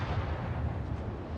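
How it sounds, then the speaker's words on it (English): A torpedo hit explosion on a ship in World of Warships, a deep rumbling boom with low-end weight that rolls on briefly, moderately loud and alone. "I got a clutch torpedo hit in his nose."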